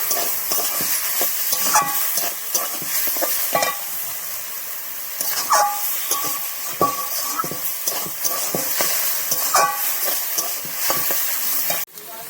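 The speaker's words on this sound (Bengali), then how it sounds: "চিংড়িটা দিয়ে দেবো, দিয়ে ভালো করে নাড়িয়ে নেবো" Small shrimp fry in a hot pan and are stirred with a spatula. The sizzle is loud and continuous, with repeated scraping strokes, and it stops abruptly at the end.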